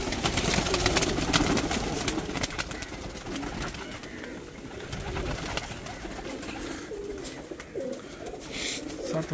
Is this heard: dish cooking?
no